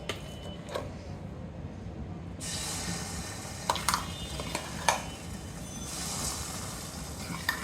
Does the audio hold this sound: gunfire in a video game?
no